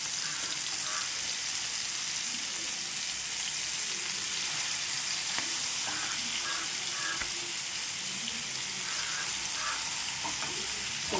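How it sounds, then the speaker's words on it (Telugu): Tandoori chicken pieces frying in oil in a pan over a medium flame, producing a steady, dense sizzle that stays loud and even throughout, with faint stirring scrapes and no voices. "ఇదైతే ఫ్లేమ్ మీడియంలో ఉంచేసుకొని మొత్తం కూడా వేయించుకోవాలండి."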